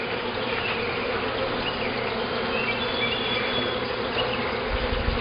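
A dense swarm of honeybees buzzes steadily at their hive entrance, a close, continuous drone that fills the whole stretch without pause, with a brief low thump near the end.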